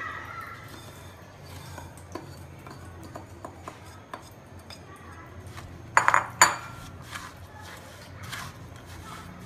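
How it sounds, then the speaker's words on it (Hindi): Sugar being stirred into roasted wheat flour and ghee in a pan for atta and gond ladoo, a spoon scraping and clinking against metal in scattered taps, with a few louder knocks partway through, against quiet room tone. "अब हम इसमें बूरा मिलाएंगे।"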